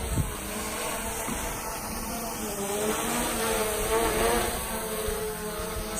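A small camera drone hovers and flies against the wind, its propellers giving a steady, insect-like buzzing whine that holds throughout over a bed of outdoor background noise.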